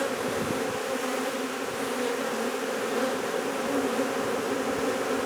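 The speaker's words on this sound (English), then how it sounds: "So the worker bees can actually fly out of this queen clip if they want" Worker honeybees hum in a steady, dense drone around a queen clip, the buzzing close and continuous without pause.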